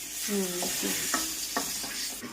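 Tempering sizzling in hot oil with stirring, a steady close hiss broken by a few sharp clinks and scrapes of a utensil against the pan.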